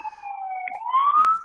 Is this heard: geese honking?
no